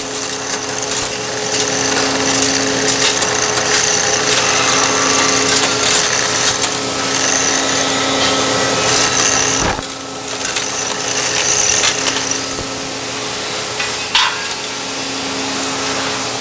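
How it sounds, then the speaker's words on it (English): A degassing shaft and rotor turn in molten metal, making a loud, continuous rushing and whirring with steady tonal hum, a brief dip near the middle, then resuming. "Then you slowly enter your degassing shaft and rotor"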